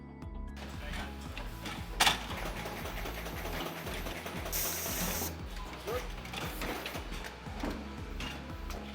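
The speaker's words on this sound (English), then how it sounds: "we'd like to introduce FBAM2, a machine capable of in excess of 14 million Frugal bottles a year" Frugalpac FBAM2 high-speed paper bottle making machine running steadily, a fast regular mechanical ticking and clatter with a sharp clack near two seconds and a brief hiss midway, continuous and fairly close.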